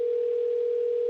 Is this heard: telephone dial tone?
yes